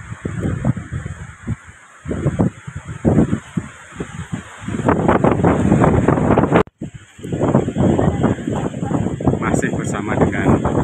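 Stormy mountain wind buffets the microphone amid fog on the way to Jokolangan peak on Mount Lawu, a loud continuous roar with gusty surges and a brief dropout partway through.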